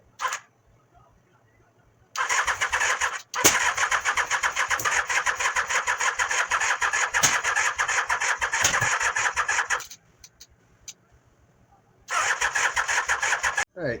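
A Mini Baja truck engine cranks with a rapid, whirring starter in two long bursts separated by silence, close and fairly loud, with short starter clicks around them.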